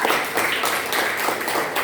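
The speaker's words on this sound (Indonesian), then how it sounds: "Tepuk tangan untuk Yasmin dan Zulfa." Classmates in a school lesson clap for two students, Yasmin and Zulfa: steady, fairly close rapid clapping from a small group, with almost no talking over it.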